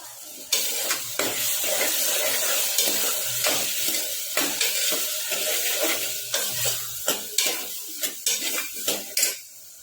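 A metal spoon stirs masala paste through cauliflower and capsicum in a pressure cooker, with repeated close scrapes and clinks against the pot over a steady sizzle.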